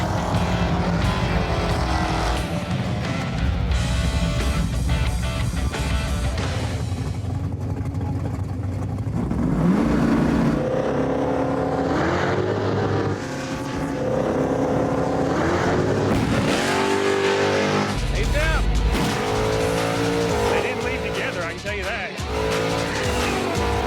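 Street-raced cars from Street Outlaws roar past with heavy engine noise and tire squeal, loud and continuous throughout, with people talking and music mixed over the racing.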